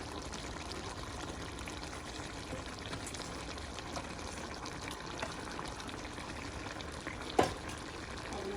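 Tomato curry simmers quietly in a pot, a soft, continuous bubbling hiss at low level with one brief clink near the end and no talking.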